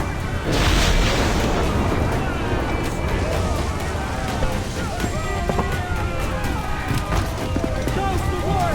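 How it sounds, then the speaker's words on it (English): Ship cannons fire during a naval battle in Assassin's Creed Black Flag, with loud deep booms rolling over continuous sea and battle noise while crew voices shout commands. "Uncork the cannons, lad! Incoming fire!"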